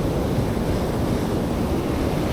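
A large ocean wave crashes and rushes through the surf around someone wading in waders while surf fishing, a loud, steady broadband roar with wind buffeting the microphone and no voices.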